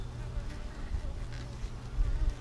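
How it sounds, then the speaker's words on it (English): A soft, low buzz of a few honeybees around a hive frame hums steadily nearby, faint and continuous with slight swells. "Just got a couple of bees checking it out"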